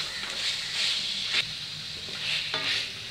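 Cashews fry in hot oil with a soft, steady sizzling hiss, broken by a few quick scraping stirs of a spoon in the pan.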